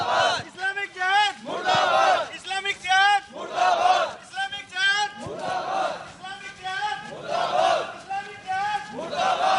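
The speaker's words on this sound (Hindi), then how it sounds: "किस तरह से नारे लगते हुए सभी इस समय अब जिला उपायुक्त के पास जा रहे हैं" Protesters from RSS, Vishwa Hindu Parishad and other groups chant slogans while marching to the district commissioner in Gurugram, a loud crowd shouting in repeated rhythmic bursts, close and continuous, voices rising and falling in unison.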